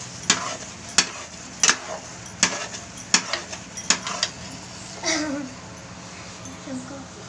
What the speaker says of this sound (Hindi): ये देखें बिल्कुल दानोदार हलवा है, आप इसे चलाइए इस तरह तो ये अच्छे से और पकेगा।